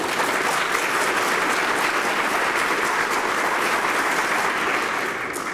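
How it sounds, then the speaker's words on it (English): An audience gives a long, sustained round of applause for Geoffrey at a speech by John Bercow, a loud, even crowd of clapping that tapers off slightly at the end. "give Geoffrey a terrific round of applause"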